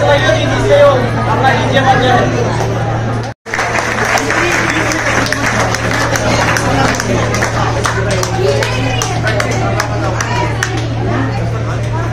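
Loud, sustained applause from a seminar audience in Rohtak, dense clapping with crowd murmur running steadily, broken by one brief dropout near the start, with a steady low hum beneath.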